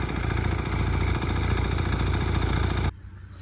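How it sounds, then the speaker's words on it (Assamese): A heavy tractor engine chugs steadily at close range on a farm before ploughing, with a clattering, rumbling idle, then cuts abruptly near the end, leaving quiet background. "ইফালে ট্ৰেক্টৰ আহি আছে"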